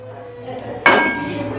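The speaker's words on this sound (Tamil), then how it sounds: "இப்போ சதகுப்பையை எண்ணெய் விடாமல் நல்லா பொன்னிறமாக வறுக்கணுங்க." Dill seeds dry-roasting in a pan without oil, a clink of metal followed by a sudden rush of hissing rattling that stays steady and close.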